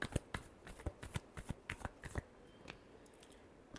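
Tarot cards shuffled by hand, a quick series of crisp riffling snaps and flicks close up, tapering off into quiet.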